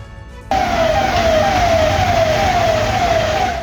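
Fire engine sirens at a blazing plastic factory in Narela, Delhi ring out loud and close, one long wailing tone sliding slowly downward over rumbling traffic noise.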